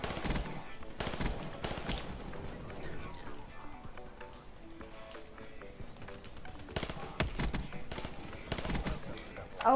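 Bursts of M16 rifle fire in a video game crack out in clusters near the start and again later, separated by quieter stretches of background game noise.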